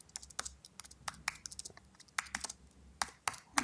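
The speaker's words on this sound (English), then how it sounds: "I'm typing in the user chat." Quiet, close typing on a computer keyboard during a live online show, irregular bursts of sharp key clicks with short pauses between them, with no speech.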